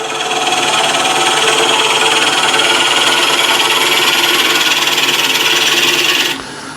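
A wood lathe spinning at 500 RPM while a scraper cuts a bowl, giving a loud, steady, broadband grinding rasp that holds for about six seconds, then drops away abruptly near the end.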